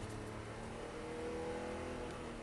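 A Porsche 997 GT3 RS accelerates on a track, its engine a steady, muffled roar heard from inside the car with no speech over it.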